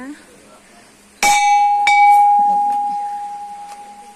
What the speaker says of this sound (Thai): อันนี้จะเป็นระฆังที่ เราครอบครัวเราและพี่น้องเราร่วมกันสร้างนะคะ